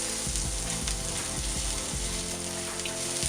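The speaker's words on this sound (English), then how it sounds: "I started sauteing some carrots that I cut in matchsticks." Matchstick-cut carrots sautéing in a pan, a constant crackling sizzle with faint low clatters, steady and close throughout.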